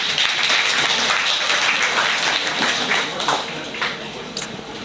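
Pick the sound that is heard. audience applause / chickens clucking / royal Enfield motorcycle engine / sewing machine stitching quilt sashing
audience applause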